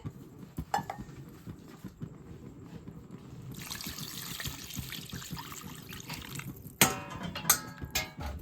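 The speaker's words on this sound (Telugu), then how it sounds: "3 గ్లాసులు వాటర్ వేసుకోవాలి." Water is poured onto rice in a pressure cooker while making chicken biryani. A faint trickle swells into a steady splashing pour midway, with a few louder splashes near the end. No voices are heard.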